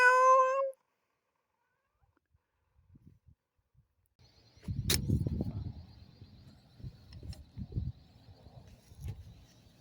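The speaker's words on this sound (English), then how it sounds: "Meow!" A cat gives a single clear, high meow at the start, followed by quiet, then scattered rustling and bumping noises nearby.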